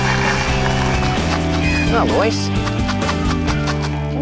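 Two surrendered miniature horses at an animal welfare shelter in West Hoxton near Sydney give a brief whinny amid steady background noise, while someone speaks over it.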